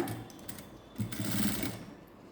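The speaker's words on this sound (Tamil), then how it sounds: "ஒரு தையல் கீழேயும் போட்டுருங்க" A sewing machine runs a short burst of stitching through fabric while a seam is sewn along the bottom edge, its steady whirring and rattle close and even, fading out at the end.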